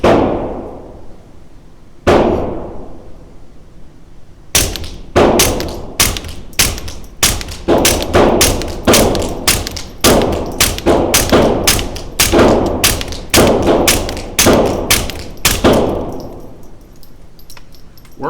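A Sig P322 9mm pistol fires a rapid string of sharp, loud shots, roughly a dozen or more in quick succession after two opening shots, with no talking over the reports.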